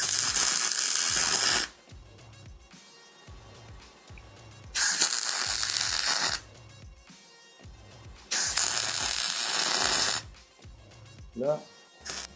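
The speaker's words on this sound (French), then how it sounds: "Juste pour faire les points de soudure" Tack welding on a homemade steel vice: bursts of loud crackling arc welding, each about two to three seconds, separated by quieter pauses with handling noises.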